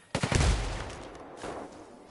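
A rifle shot in Ghost Recon Wildlands: one sharp, loud report with a booming low-end thump, followed by a fading echo and a fainter second crack about a second later.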